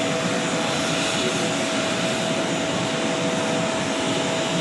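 An airplane sits at Villamor Air Base just after landing, its jet engines giving a loud, steady broadband roar with a thin whining tone, continuous throughout with no voices.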